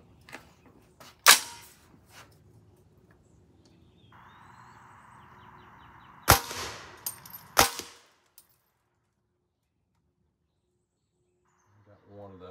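A suppressed .300 Blackout rifle fires outdoors: a few sharp, loud cracks with gaps between them and a faint ringing hum in the quieter stretches.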